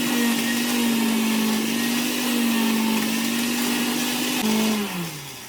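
A mixer grinder whirs as it grinds a packed load of drumstick (moringa) leaves for chutney, with a loud steady motor drone that dips near the end as it winds down.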